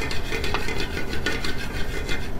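Whole spices such as cardamom, black peppercorns, a small cinnamon stick and mace are dry roasted in a pan while being stirred for chicken, giving a steady scraping, rustling rattle with soft repeated strokes and no talk.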